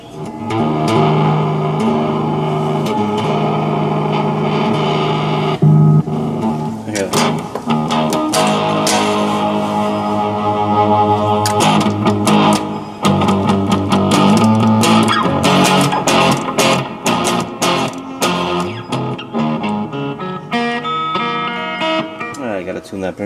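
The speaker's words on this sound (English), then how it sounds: "here's the Fender and its distortion" An electric guitar plays through a Fender Mustang 1 amplifier's distortion setting, giving sustained crunchy chords and picked notes, loud and continuous, with some brief talk between the phrases.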